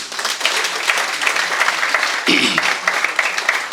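Enthusiastic audience applause at a Lions Club governor's visit event, loud dense clapping from a crowd filling the room, with a brief voice-like sound rising partway through.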